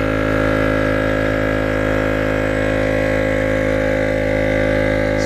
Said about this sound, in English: We're going to turn the pump off and then back on.